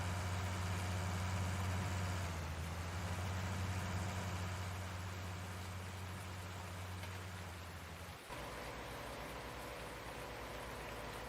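An American tractor engine idling in Farming Simulator 19, a steady low rumbling drone that holds for most of the stretch, dips briefly and then carries on, with no talking.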